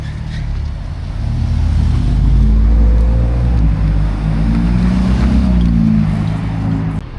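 A Ferrari 812 GTS sports car drives past on a Monaco street, a loud, steady engine rumble building and holding for several seconds with shifting low tones, close by, with no talk over it.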